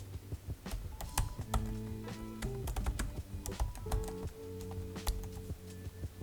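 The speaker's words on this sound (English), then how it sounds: "open up a terminal and type Ollama run and the LLM you want to run" Typing a command into a computer terminal on a keyboard to run a local Llama 3.2 model with Ollama: steady, close clicking keystrokes in quick irregular bursts, with no talking.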